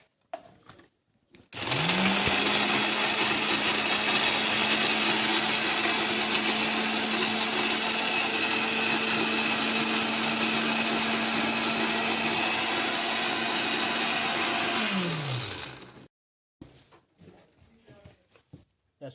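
A kitchen mixer grinds dry coconut and roasted onion into a paste for a Konkan cashew curry, whirring loudly and steadily for about fifteen seconds with a sharp spin-up and wind-down, then stopping.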